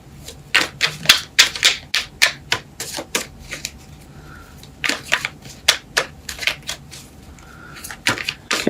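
Tarot cards shuffled by hand: a rapid run of crisp, close snapping flicks in a quick uneven rhythm, pausing briefly before resuming, with no voice over it.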